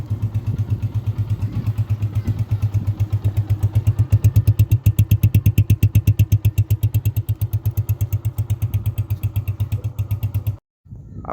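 A modified 125 cc motorcycle engine runs steadily at close range, its loud, rapid, even firing pulses continuing for about ten seconds before cutting off abruptly into silence.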